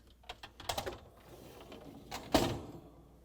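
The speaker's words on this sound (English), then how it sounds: "And now we're going to slide in the dish rack." Clattering rattles and clicks as the rack slides into a GE dishwasher, with a few quick knocks early and a louder clunk near the end.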